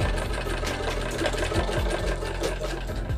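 Sewing machine stitching a fabric strip, a continuous close mechanical whir with steady needle rhythm throughout.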